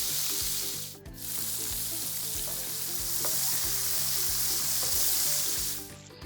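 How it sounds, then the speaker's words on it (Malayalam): Beef pieces deep-frying in hot oil for chilli beef, a steady loud sizzle that runs throughout with rhythmic low clatter and scraping of a utensil in the pan. "ബാക്കി ബീഫ് കൂടെ നമുക്ക് വറുത്തെടുക്കാം."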